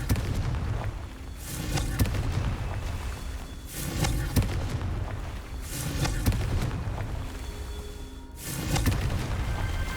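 Confringo explosive spells go off in Hogwarts Legacy, four heavy booming blasts spaced a couple of seconds apart, each with a sharp crack and a rumbling tail, over low background ambience.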